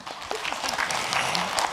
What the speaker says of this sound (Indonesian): Boleh tepuk tangan dulu yuk.